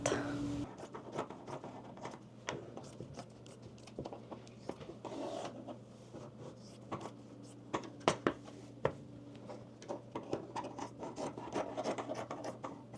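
Scissors cut through cotton fabric from a thrifted bed sheet, giving soft rasping snips and scratchy rubbing in an irregular run, with sharper clicks of the blades closing in a quiet room.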